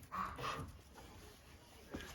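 A dog pants softly and lets out a few faint whimpers, quiet and close in a calm room, with low voices barely present in the background.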